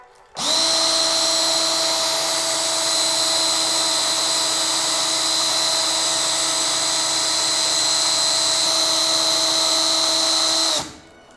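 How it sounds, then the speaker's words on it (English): A power drill whines steadily at high speed for about ten seconds, spinning a kitplane part for sanding, starting and stopping abruptly, loud and close. "chuck it into a drill like so"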